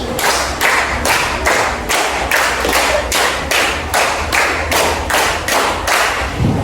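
A class of students claps in unison during a concentration game, a long run of about a dozen sharp group claps falling in an even, steady rhythm, loud and near.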